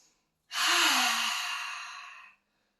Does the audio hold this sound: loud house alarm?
no